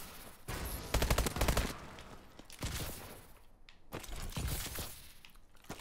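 Call of Duty Advanced Warfare gunfire in rapid bursts, sharp automatic volleys rattling off in a few clustered strings at moderate level, with game noise between them and no one speaking.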